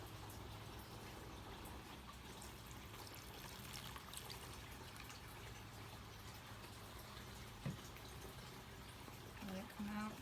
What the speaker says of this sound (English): So I'm going to water my sable blue pothos.